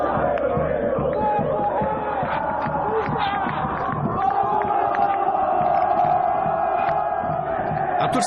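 Grêmio football supporters crowding Salgado Filho airport in Porto Alegre for the team's send-off before a Copa do Brasil final, a loud, continuous chant and roar of many voices with scattered shouts, unbroken throughout.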